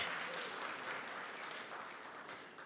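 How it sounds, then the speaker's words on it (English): Applause from an assembly audience at a national delegates' conference in Kenya: steady, dense clapping of many hands, fairly faint and distant, running alone without voices over it. "Thank you for clapping for me."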